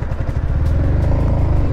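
A motorcycle engine lugs at low revs in third gear and nearly stalls, giving a close, loud, uneven rumble with rattly pulses that lasts under two seconds.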